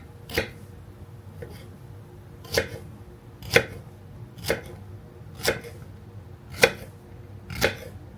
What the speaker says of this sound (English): I've already started chopping, so we'll finish this job